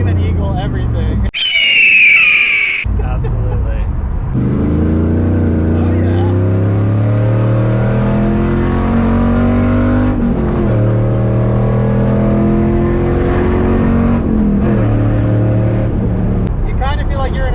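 A 1999 Pontiac Trans Am 30th Anniversary engine revs loudly and aggressively in short bursts, with a rumbling, obnoxious exhaust note that runs under steady nearby conversation between people.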